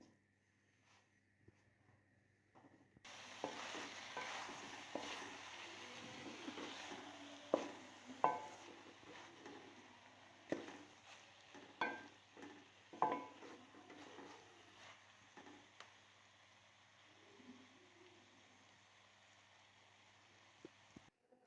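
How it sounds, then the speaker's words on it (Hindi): Potatoes and cauliflower for aloo gobi are stirred and fried in a pan, with soft sizzling and repeated scraping and clinking of a spoon against the metal at an irregular, unhurried pace. "मैं इसको भून लेंगे अच्छे से।"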